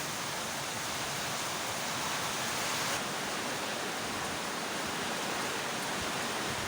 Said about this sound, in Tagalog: Ang hagupit ni Christine dito sa Cavite Signal number 2.